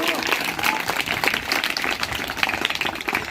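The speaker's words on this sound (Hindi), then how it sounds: "जोरदार तालियां, सारा बजाओ सारा बजाओ।" School audience at a quiz competition applauding the winning team, lively clapping with a crisp, uneven rhythm, mixed with voices talking over it.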